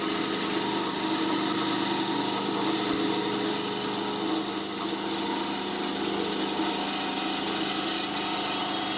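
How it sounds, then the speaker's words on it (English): A bandsaw with a new blade cuts a pattern out of scrap wood for a nesting box, a loud, unbroken motor drone with a constant rasp of the blade through the wood, heard alone. "To the bandsaw again and cut out your pattern."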